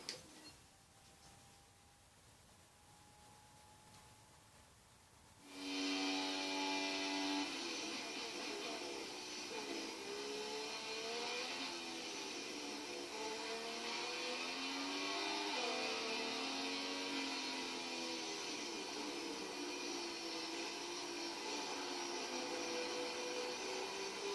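Formula 1 car engine in the F1 2016 racing game, quiet at first, then a sudden loud, sustained high-pitched whine that rises and falls through gear changes during a flying lap.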